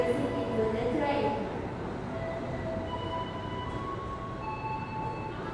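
An Indonesian KRL commuter train rumbles past at moderate distance, a steady rolling roar with faint wheel squeal, while a person talks over it.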